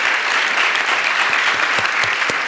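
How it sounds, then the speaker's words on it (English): Steady, dense audience applause fills the room at a university screening event with Diego Luna in Berkeley, sustained and even throughout without any pause, with a few sharper individual claps standing out near the end. "it's just a kid still applauding"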